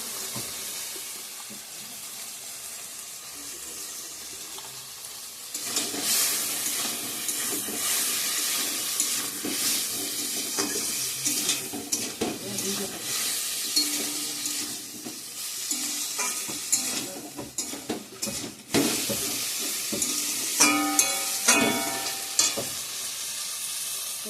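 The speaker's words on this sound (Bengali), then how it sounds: "সব মশলা ভালো করে অ্যাড করে দিয়ে দিয়েছি, এখন কষিয়ে নিব ভালো করে।" Spices including chilli powder sizzle and fry in a pan while being stirred, a steady crackling hiss that grows louder partway through, with scraping stirs and clatters over it and no talk.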